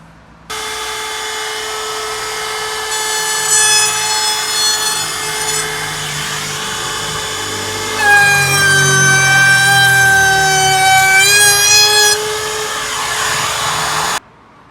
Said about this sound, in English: Just going to run round them with a router with a little chamfer bit in there, just to take the edge off the holes.